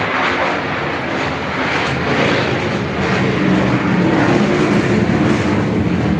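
F-16 fighter jets take off about 50 feet from a shop, producing a loud, continuous roaring engine rumble that holds steady and builds slightly, with no talking.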